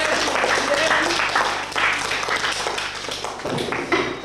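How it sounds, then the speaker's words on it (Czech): An audience at an Easter 2005 show applauds steadily, a dense wash of clapping that holds at even loudness for several seconds. "Potlesk!"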